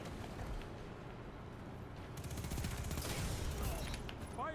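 Shotgun blasts in a video game boom over dense gunfire and battle noise, with several heavy reports crowding together, a louder burst near the end, and faint speech underneath.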